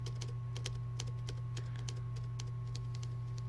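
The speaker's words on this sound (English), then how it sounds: "He's still typing away." Keyboard typing in the visual novel game forget me not: Palette, a steady run of quick clicking keystrokes over a constant electronic hum, no voices.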